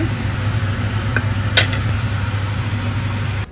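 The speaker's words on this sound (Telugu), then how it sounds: "కొంచెం బటర్ వేసుకొని బ్రెడ్ టోస్ట్ చేస్తున్నా" Bread toasting in butter in a hot pan gives a steady, close sizzle, with one sharp utensil clink against the pan midway; no talking.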